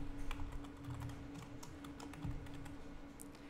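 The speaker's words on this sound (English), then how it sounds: "So I'll go ahead and type in my name." Quick, light keystrokes on a computer keyboard as a name is typed, an irregular patter of close, soft clicks over a faint steady hum in a quiet room.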